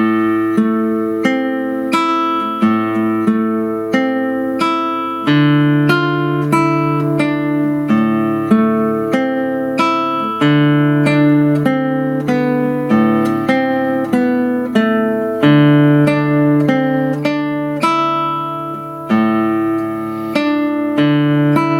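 Classical guitar plays a fingerpicking study from a beginner method book, with a steady run of plucked notes and ringing bass, at moderate tempo and close, with no voice.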